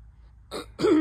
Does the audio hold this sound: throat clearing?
yes